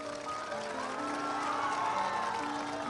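Crowd noise from a rally crowd of local people in Vaishali, Bihar, during election campaigning: a steady, dense roar of cheering and clapping with scattered shouts and tonal calls, loud and continuous throughout.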